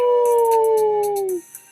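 A human voice imitates a wolf howl: one long, close, loud tone that slides slowly downward for about a second and a half, then cuts off, with breathy hiss above it.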